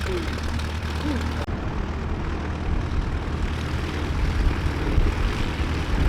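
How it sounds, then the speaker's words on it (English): A Bristol Blenheim, powered by two Bristol Mercury nine-cylinder radial engines, flies at a Shuttleworth airshow, its steady, loud engine drone holding throughout and rising slightly toward the end, with a voice talking faintly over it. "Two Bristol Mainbury 9-cylinder engines developing 920 horsepower"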